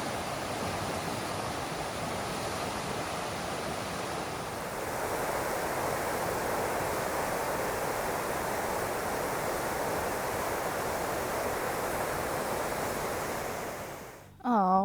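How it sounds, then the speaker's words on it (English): Steady, loud broadband rush of a high, fast-moving river, a continuous roar that swells slightly partway through, with no voices over it. "this is the other side of the river. There is so much water in here right now"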